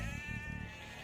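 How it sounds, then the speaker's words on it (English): A single sheep bleat from the real-time strategy game Age of Empires 2: Definitive Edition, a short wavering bleat, clear and close, with faint game ambience behind it. "Found the sheep."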